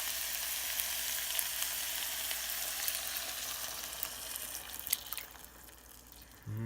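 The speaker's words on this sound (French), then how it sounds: "on vient gratter les sucres dans le fond de la poêle" Oyster mushroom curry sizzles steadily in a frying pan as a spoon scrapes caramelized sugars off the bottom after coconut milk goes in, a continuous close hiss with light scraping and a soft clink near the end.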